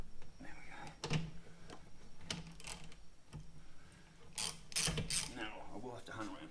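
A ratchet undoing a bolt on a Harley-Davidson motorcycle fuel tank, with several bursts of rapid clicking pawl ratcheting close by, separated by quieter pauses and faint workshop noise.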